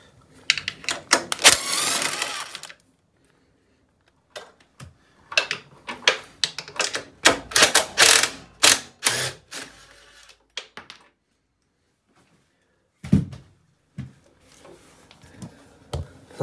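A ratchet socket wrench works 7/16 bolts free from the voltage regulator on a Harley-Davidson motorcycle during a front motor mount replacement, with loud bursts of rapid clicking ratchet strokes separated by pauses and a few lone clicks, with no talking.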